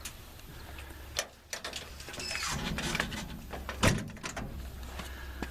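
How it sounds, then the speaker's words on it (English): Metal inverter enclosure doors swing and shut with a few sharp clanks and latch clicks, close by, separated by brief rustling handling sounds, with no talking. "Close the inverter enclosure doors."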